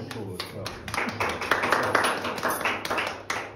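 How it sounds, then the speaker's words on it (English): Scattered hands clapping from a small gathering at an exhibition virtual tour, moderately close and sustained, with talk over the top. "You can applaud."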